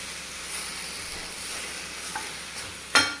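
Cut tomatoes and spices are sautéed in a pan for a ground-masala fish curry, giving a steady loud sizzle and hiss, with a scrape of stirring at the end.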